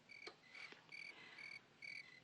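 Crickets chirping indoors in a house, a faint but steady run of high repeated trills pulsing in short bursts, with no voices.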